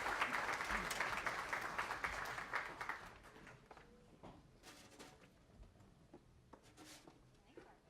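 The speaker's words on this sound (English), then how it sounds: "Please give her a big round of applause." An audience at a Kids Rock Cancer charity concert breaks into loud applause for a performer, the clapping strong at first and then thinning out into scattered claps and faint crowd noise.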